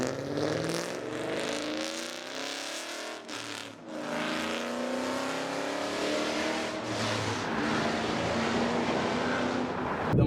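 A 2010 Ford Mustang GT with long tube headers, an off-road H-pipe, a stock catback and deleted mufflers rumbles and revs loudly and up close, its exhaust note rising and falling through several throttle sweeps.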